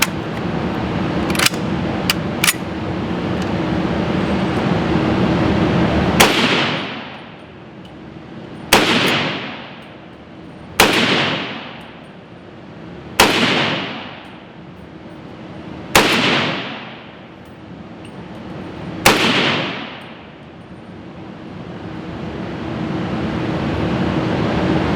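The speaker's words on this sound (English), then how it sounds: "Without further ado, let's go shooting. First 15 round magazine." M1 Carbine rifle firing a 15-round magazine outdoors: a few quick sharp cracks, then six loud, evenly spaced gunshots a few seconds apart, each with a decaying echo, over steady background noise.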